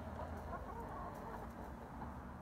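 A young flock of laying hens in a town backyard coop in winter clucks and murmurs continuously against a dense, noisy background. The bird sounds are close but blended, with no talking.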